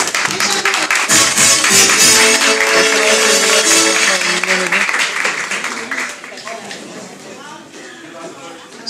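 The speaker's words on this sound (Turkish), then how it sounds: "Alkış eyler lütfen." An audience applauds at an Iran-themed evening event, loud, dense clapping that swells at first, with a voice or music-like tones briefly riding over it, then fades to a thinner patter toward the end.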